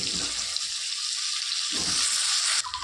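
Potatoes frying in hot oil with a bay leaf, green and dried chillies and whole cumin: a steady, fairly loud hiss and sizzle runs throughout, with a few low thumps of the pieces settling into the pan.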